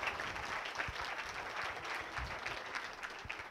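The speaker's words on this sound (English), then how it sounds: "Could you have applause for Emma, please" Audience applause at a lecture, a dense, steady wash of many hands clapping that holds evenly throughout at a moderate level, close and filling the room.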